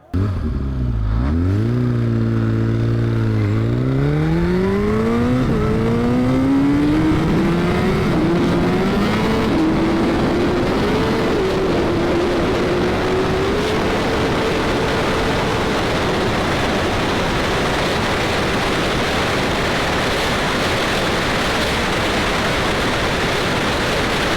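A fast sport motorcycle accelerates hard at steady partial throttle, its engine note climbing smoothly from a low growl into a sustained high whine, loud and close over heavy wind roar, with no talk.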